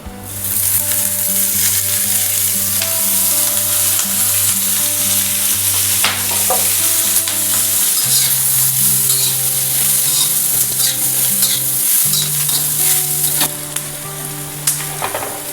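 Dried red chillies fry in oil in a pan, stirred throughout, giving a steady close sizzle with scraping stir strokes for about fifteen seconds, with no talk.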